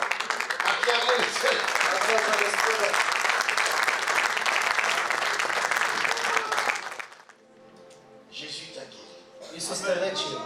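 A crowd at a church healing service applauds and cheers loudly and steadily for about seven seconds, then the noise drops away, leaving quieter scattered sounds and a brief swell near the end.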